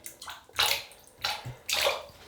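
A water-soaked shaving brush flicked to shake off excess water before lathering soap, giving three sharp, close splashy bursts with short gaps between, no talk over them.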